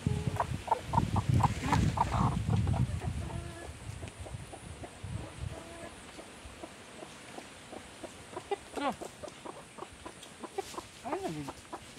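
Chickens and a rooster on a hillside coconut farm where copra is made call out: loud clucking close by at first, then scattered calls and crowing-like cries, quieter and spread out.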